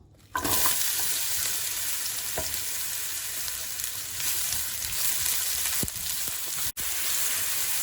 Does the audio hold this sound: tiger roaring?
no